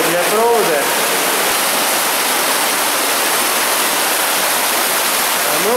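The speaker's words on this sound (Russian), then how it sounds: "И такой красивый маленький водопадик, образованный" Small waterfall formed by water spilling over a cable spool in an underground tunnel, a constant loud broadband rush of falling water, with brief faint tonal echoes at the start and end.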